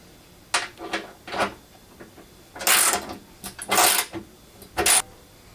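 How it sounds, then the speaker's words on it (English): Bolts being tightened down with lock washers while assembling a Harbor Freight dust collector: several short bursts of ratcheting mechanical clicks, close and fairly loud, separated by brief pauses. "You are basically tightening them down until the lock washer compresses"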